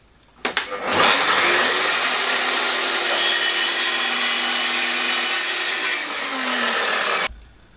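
A power saw on a multifunction table spins up and cuts through 5mm MDF with a loud, steady whining rasp close by, then winds down and stops abruptly.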